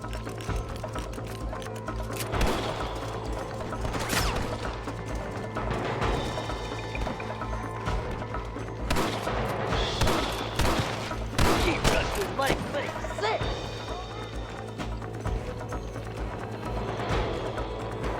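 Gunfire in the Western video game Red Dead Redemption, bursts of overlapping shots over a steady game soundtrack, dense and loud through most of the stretch.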